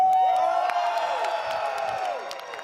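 A large live crowd at an ALGS Apex Legends esports event in Los Angeles cheers and whoops steadily in a big hall, loud and sustained across the whole moment.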